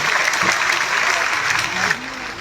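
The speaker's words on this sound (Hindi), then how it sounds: "अपनी उपलब्धि पर बड़ी तालियां बजाया करिए" Audience members at a large Hindi poetry gathering at Janta Inter College in Rudrapur clap in a short, loud burst of applause, with a voice briefly heard under it before it fades.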